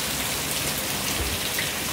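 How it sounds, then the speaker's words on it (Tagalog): Heavy rain pours down at an outdoor resort pool as a dense, loud, continuous hiss that covers everything else. "lakas na ng ulan"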